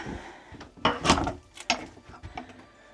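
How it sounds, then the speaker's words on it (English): A heavy engine room door on a boat creaks and clunks open nearby, with a few mechanical knocks and rattles, no talking. "Engine room door."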